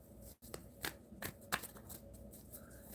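A deck of cards is shuffled by hand, producing quick papery riffles and soft slaps that come in several quiet bursts, close by in a room with a faint hum.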